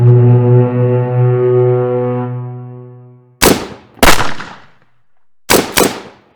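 Gunfire from ships: a long, loud, low ship's horn blast fades out, then four sharp, booming shots ring out in two close pairs, each with a brief echoing tail.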